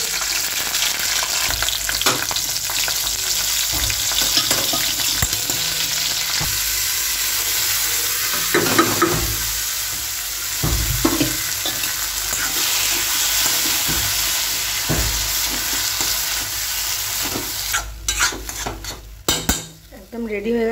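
Green and dried chillies fry in oil in a wok, a steady close sizzle with occasional stirring and metal scraping against the pan, ending in a burst of clattering utensils.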